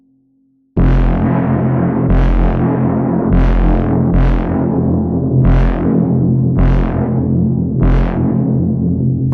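Distorted bass synth drenched in reverb plays a series of about seven loud, heavy notes, each struck roughly once a second and sustaining into the next, with no voices.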